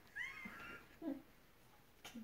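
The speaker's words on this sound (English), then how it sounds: "See her? It's a cat." A cat gives a few short, faint meows with pauses between them in a quiet room.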